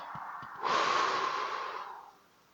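A long, deep inhalation during breath-counting meditation, a loud airy rush starting abruptly and held for about a second and a half before fading, close and alone with no talk.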